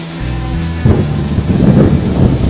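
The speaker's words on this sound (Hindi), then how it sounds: "उस रात फिर तेज बारिश शुरू हुई।" Heavy rain pours steadily while thunder rolls in partway through, a loud low rumble swelling over the dense hiss of the downpour, with no voices.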